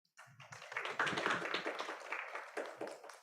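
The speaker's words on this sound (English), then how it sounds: "let's give a round of applause for them" Applause from an audience at an international visiting professor event, a burst of claps rising quickly and holding steady for a few seconds, fairly close and dense, with no talk over it.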